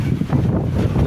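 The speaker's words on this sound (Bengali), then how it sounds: "এই বাতাস ছুটছে" Strong wind gusts ahead of an approaching cyclone roar and buffet the microphone in a loud, low, continuous rush.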